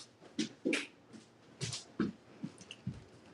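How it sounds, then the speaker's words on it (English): Neighbor's dogs bark in a loose, irregular series of sharp yaps, somewhat distant and muffled, with short pauses between the barks. "my neighbor's dogs are so loud"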